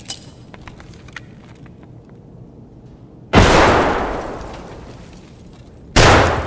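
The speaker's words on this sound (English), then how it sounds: "I got him with the grenade!" Two grenade blasts in a first-person shooter game, each a sudden loud full-band explosion with a long rumbling decay, the first after a stretch of quiet ticking ambience and the second cut short at the end.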